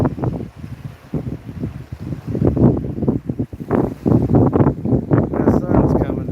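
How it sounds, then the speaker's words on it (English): Gusty outdoor wind buffets the microphone during a fishing session, producing a continuous low, rumbling flutter in uneven surges that stays loud and close throughout. "Hell, even the camera's blowing in the wind."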